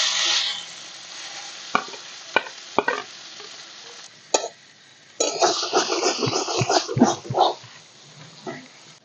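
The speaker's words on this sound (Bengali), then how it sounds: "দিয়ে দিচ্ছি কাঁচা লঙ্কা, আলু আর গাজর গ্রেট করা" Grated potato and carrot with green chili hit hot white oil in a pan, giving a few sharp clacks of a spatula before a steady, loud sizzle with scraping and stirring, close up and without voices.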